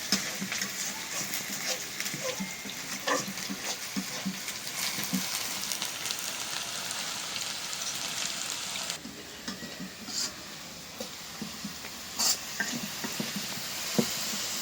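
Crackling hiss of food frying in a pan, with occasional scrapes and taps of stirring, steady throughout at moderate level, near and alone; hilsa fish and mashed vegetables are being cooked.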